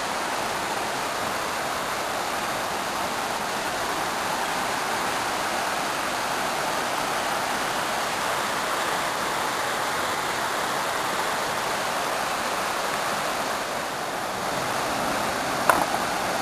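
Steady, dense rushing water of Latourell Falls roars continuously, a broad hiss like falling water nearby, with no pauses or voices over it.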